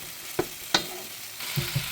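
Pork tossed with tomato, onion and sweet potato tops in a wok, with a steady stir-fry sizzle broken by a few sharp utensil scrapes and clacks near the start and soft stirring thumps toward the end.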